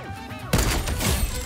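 Sniper rifle in a video game fires a single sharp, loud shot after a moment of quieter in-game sound, followed by a ringing, crashing tail.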